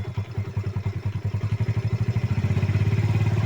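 A motorcycle engine runs during carburetor tuning with its idle speed being raised. It is a close, even putter that quickens partway through and settles into a faster, steadier beat, with no talking.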